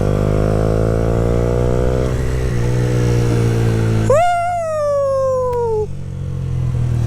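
A Yamaha YZF R125 motorcycle engine drones steadily at close range, then revs up with a rising whine that holds for a couple of seconds before easing off.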